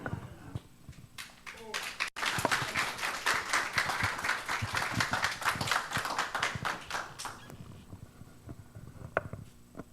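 A church congregation at a Sunday service claps together, a dense burst of applause that swells and holds for several seconds before thinning out to a few scattered claps.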